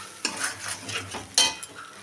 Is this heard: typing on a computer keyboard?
no